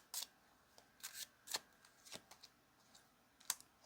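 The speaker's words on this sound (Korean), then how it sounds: "마지막으로 우리 4번 분들께 드리는 조언의 카드 한 장만 올려보도록 하겠습니다" A single tarot card drawn from the deck and laid down, heard as a few soft papery slides and light taps, quiet and close, with no talk.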